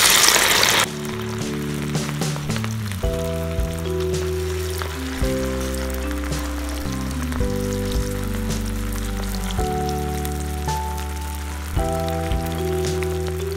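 Rice flower snacks frying in oil in a kadhai, a constant crackling sizzle like light rain running throughout, heard under steady background music.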